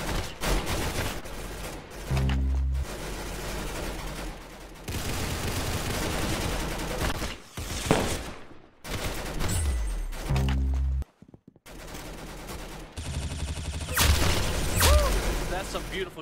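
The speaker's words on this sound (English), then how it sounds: "Some beautiful shooting right there." Roblox Arsenal firefight with loud, close bursts of automatic gunfire and rapid single shots, nearly continuous with brief gaps and booming impacts, played over game audio.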